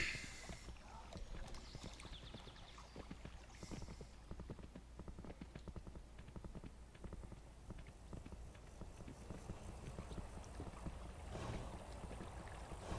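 Horse hooves in the video game Kingdom New Lands: quiet, rhythmic clip-clop steps repeating at a steady walking pace over soft ambient game sound.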